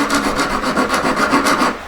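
A small metal file rasps back and forth against a flat-ended ring claw being sharpened, giving steady, close, rhythmic strokes of fairly loud scraping with no talking.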